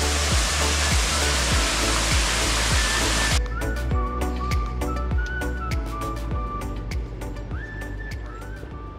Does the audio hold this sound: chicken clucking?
no